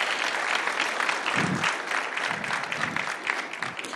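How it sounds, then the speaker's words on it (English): Steady audience applause at a formal signing ceremony in Rwanda, moderately loud, sustained clapping from a seated crowd with slight rises and dips. "Ladies and gentlemen, a round of applause"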